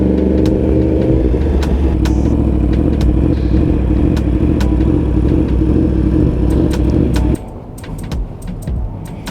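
Japanese-made cars drive past along a road by the Swan River in Perth, a loud continuous engine roar up close that cuts off sharply near the end, leaving quieter traffic rumble and clatter.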